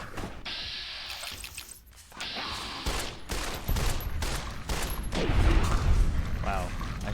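Rapid bursts of gunfire in a shooter video game, loud and repeated, with impacts and mechanical clatter mixed in, and a voice talking over the action.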